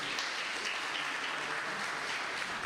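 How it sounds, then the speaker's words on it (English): Steady, broadband applause from a seated audience at a university parents' night, filling the clip evenly without pauses and with no voices on top. "Let's give them another round of applause."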